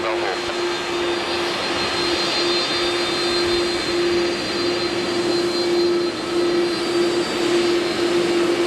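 An Airbus A330 jet engine roars at Madeira Airport, a loud, steady, unbroken whine and rush with a sustained tone running through it from start to finish.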